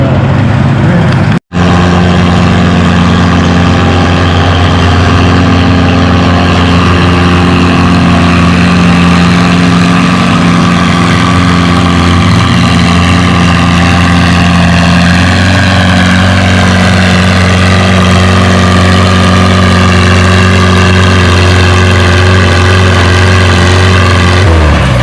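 A tractor pulling engine at a fall tractor pull in Lynden roars loud and steady as the clutch is pulled in near the end of a full pull, then holds a sustained, droning mechanical hum with deep low rumble throughout.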